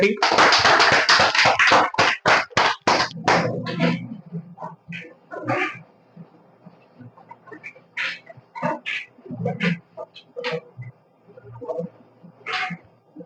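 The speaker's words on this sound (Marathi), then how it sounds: "जोरदार टाळ्या" Loud applause from an audience at a lucky-draw prize announcement, a dense burst of clapping for about four seconds that thins into scattered claps under continuing chatter.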